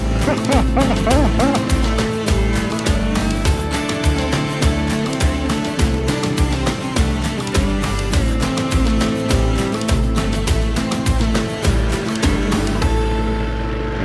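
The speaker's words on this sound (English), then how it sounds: "Very well-behaved dogs here in Guatemala." Several dogs bark and yip repeatedly in a Guatemalan village, loud and close, over a steady background of music or engine noise with no clear talk.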